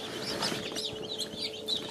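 A group of farm chickens clucks and chirps in a busy, overlapping chatter, moderately close and fairly quiet, with soft rustling underneath and no talking.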